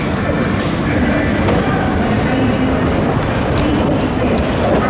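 Steady rumble of a small automated people-mover train running along its track, with a continuous low mechanical roar and faint chatter of people nearby.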